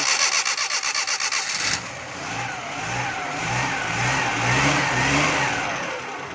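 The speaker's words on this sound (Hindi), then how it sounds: "अब हम दोस्तों गाड़ी को सेट करेंगे, स्टार्ट करेंगे।" A Suzuki Bolan van's engine cranks with a rapid starter chug, then catches and runs, rising into uneven revs and idling close by, loud and steady with no talking.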